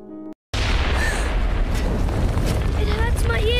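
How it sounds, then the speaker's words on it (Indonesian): An eruption of the Krakatau volcano booms as a loud, sustained broadband roar, depicted like a gunshot blast, following a brief silence. Shouting voices rise over the rumble toward the end. "Krakatau meletus seperti sebuah senapan yang suaranya buat bising telinga"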